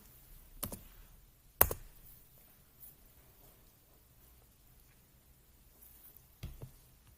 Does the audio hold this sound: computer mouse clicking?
yes